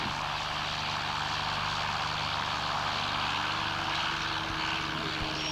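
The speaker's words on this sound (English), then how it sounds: "A Cessna trying to depart" A Cessna light aircraft at a 1984 air show in Masterton, New Zealand, holds a steady, droning propeller engine note throughout, moderately loud and unbroken, with no voices over it.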